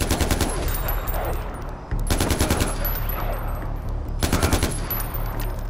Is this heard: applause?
no